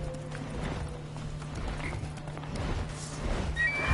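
Roach, a horse in The Witcher 3, gallops with steady clip-clopping hoofbeats over a droning game soundscape, with a brief neigh and a few faint metallic game effects.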